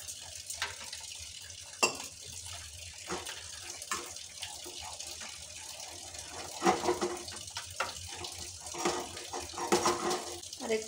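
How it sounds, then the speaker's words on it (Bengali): Water goes little by little into a spiced batter for fish chops in a home kitchen, with soft splashes and wet stirring scrapes of the spoon coming in small uneven bursts, close and fairly quiet. "এবার অল্প অল্প করে জল দিয়ে ব্যাটারটা বানিয়ে নেব।"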